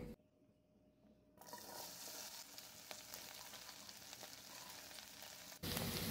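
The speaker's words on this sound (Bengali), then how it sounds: "চুলায় একটি পাত্রে পরিমাণ মতো তেল গরম করে নিয়েছি। এবার দিয়ে দিচ্ছি ঢেঁড়সের টুকরোগুলো।" Okra pieces drop into a pan of hot oil. A quiet start gives way to a sudden burst of loud, steady crackling sizzle that holds close and constant.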